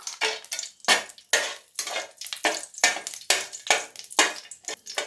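Whole spices (a small piece of cinnamon, a bay leaf, three cardamom pods, a star anise and three cloves) crackle in hot ghee for mushroom biryani, with repeated clinking scrapes of a spoon stirring the pan.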